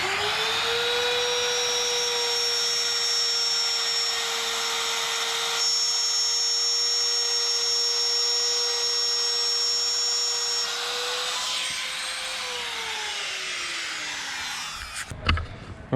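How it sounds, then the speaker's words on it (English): A Weiand 177 blower being trimmed to fit a 5.3 LS truck engine with a rotary grinding tool: a steady, loud high whine holds for about twelve seconds, then spins down, ending in a short sharp burst. "after about an hour of grinding and just back and forward, finally got this trimmed"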